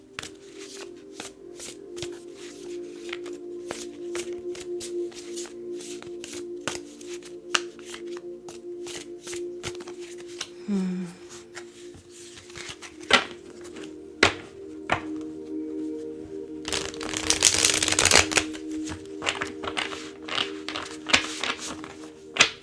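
Tarot cards being shuffled by hand, heard as a steady run of soft riffling flicks and taps up close, with a louder, denser flurry of snapping card edges late in the sequence.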